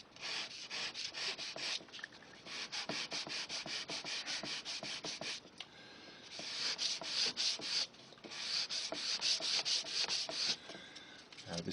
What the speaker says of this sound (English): I've got to go around with fine sandpaper and be really gentle